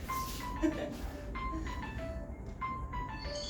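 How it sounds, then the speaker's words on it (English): A faint electronic alarm plays a repeating melodic beeping tune in the background, quiet and steady over a low room hum. "Oh, that's my alarm telling me to wake up."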